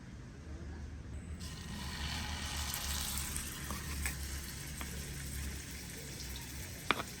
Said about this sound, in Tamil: இதுக்கு கொஞ்சம் எண்ணெய் விடுவோம்.